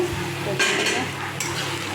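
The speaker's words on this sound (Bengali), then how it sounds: "এটা ভালো করে কষিয়ে নিয়ে আদা রসুনটা" Fried onions being sautéed with ginger-garlic paste in a pan for a red mutton curry, with a continuous sizzle, a spatula scraping and stirring in short bursts, and a light clink of metal against the pan.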